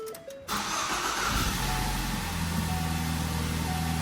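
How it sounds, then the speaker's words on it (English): Car engine cranks briefly after a few soft chimes, catches, revs up, then settles into a steady close idle. "Now we're going to turn it over, crank the car, get it started"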